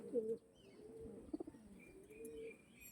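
Domestic pigeons in a loft coo in soft, low rounded phrases, one clear call near the start and a few pulsing coos in the middle, with faint chirps over light background noise.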